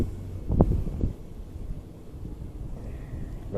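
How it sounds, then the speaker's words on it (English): Wind picking up over an Indiana lake on a fishing outing, buffeting the microphone with a low rumbling gust early on, then settling into a softer steady blowing. "the wind's starting to pick up"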